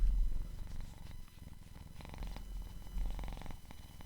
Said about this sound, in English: Well, you might hear some purring.